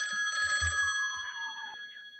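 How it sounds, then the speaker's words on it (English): A telephone rings in short bright metallic trills, fairly faint and heard alone with a slight low thump underneath. "I think I hear the phone ringing for a second time today."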